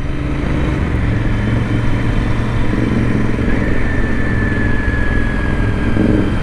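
A Royal Enfield Interceptor 650 motorcycle engine runs steadily and loudly throughout, a low continuous rumble with no talking.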